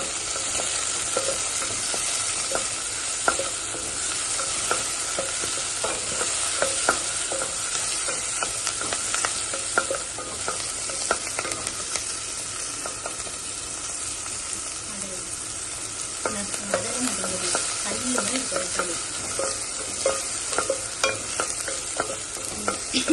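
Curry leaves sizzle and fry steadily in a pan for white pumpkin kootu, with intermittent stirring clinks over the continuous crackle, close and moderately loud.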